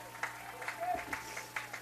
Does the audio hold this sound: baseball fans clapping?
yes